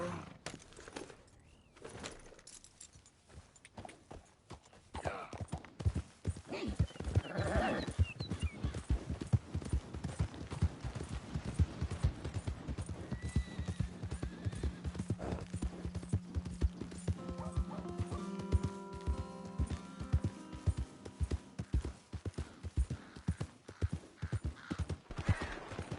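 In Red Dead Redemption 2, a horse's hooves clop in a quick, steady rhythm through most of the stretch, loud and close, with brief whinnies and a held musical tone in the middle, and no speech.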